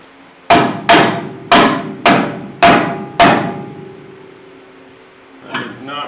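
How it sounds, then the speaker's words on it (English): A hammer strikes a brake caliper on a 1981 Chevy C10 shortbed squarebody pickup, six sharp metallic blows in an uneven rhythm with ringing decay, close and loud, followed by a brief clatter. "I'm going to go get a gentleman's hammer and give her a couple little love taps"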